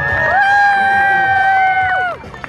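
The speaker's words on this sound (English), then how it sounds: "I want you guys to clap your hands, scream really loud, make a lot of noise." An audience at a sea lion show screams and whoops in a loud, sustained burst of cheering that holds for about two seconds before cutting off abruptly.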